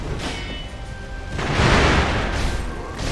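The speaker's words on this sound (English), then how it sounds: "I never don't feel good countering that firecracker move." In the video game Sekiro, Sword Saint Isshin's firecracker move goes off as a burst of booming, crackling blasts with whooshing sweeps, loud and dense over about three seconds, peaking midway.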